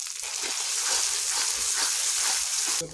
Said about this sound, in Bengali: মশলাটা দিয়ে দিলাম এবারে এটাকেও ভালো করে কষাবো